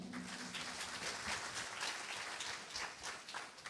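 Audience applause rings out in a hall at a jurists' conference cultural programme after a devotional song, a steady wash of many hands clapping throughout, fairly distant and unbroken.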